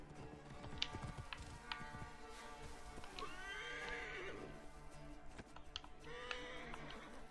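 A horse in the Assassin's Creed Origins video game answers a call with a loud, wavering neigh and snorts over rhythmic clip-clopping hooves, set against a steady game soundscape.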